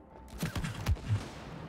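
Gunfire igniting sap sets off an explosion in the co-op video game It Takes Two, a short cluster of sharp pops and bursts heard fairly quietly, with no talking.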